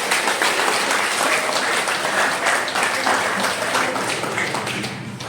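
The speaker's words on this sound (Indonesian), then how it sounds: "Tepuk tangan untuk mereka." A Catholic church congregation applauds the children during a Sunday Mass, with loud, dense, even clapping that holds steady and eases off slightly at the very end.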